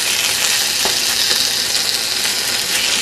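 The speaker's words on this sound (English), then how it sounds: "And by the time they are fully sauteed, the sausage should be ready." Sausage and vegetables sauté in a pan with a loud, dense, continuous sizzle heard up close, with faint stirring clicks under it.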